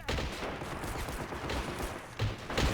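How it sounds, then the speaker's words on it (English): Heavy, continuous machine-gun fire crackles through a battle in the video game Men of War: Assault Squad 2, loud and dense with barely a pause across the whole stretch. "That freaking machine gun up there."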